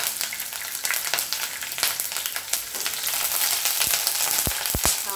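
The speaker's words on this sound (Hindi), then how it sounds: "मिर्च डालना है 3 हरी मिर्च डाला" Three green chillies fry in hot oil for a Kerala-style prawn dish, giving a steady, close sizzle with scattered pops and a few low thumps of stirring near the end.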